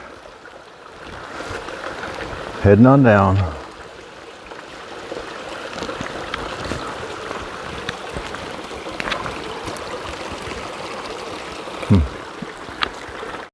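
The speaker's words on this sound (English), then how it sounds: "here is a nice little stream for you" A small clear stream on the Appalachian Trail burbles and rushes steadily throughout, with a brief spoken phrase early on and a short sound near the end.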